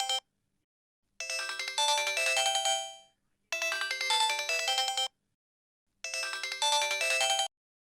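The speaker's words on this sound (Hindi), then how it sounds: "किसका फोन है?" A phone ringtone plays in three separate bursts with short silences between, a bright electronic melody heard clearly and up close.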